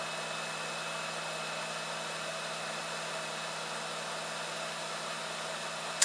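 A 909D+ SMD hot air rework station blows air at low volume to cool down, a soft, continuous hiss heard alone.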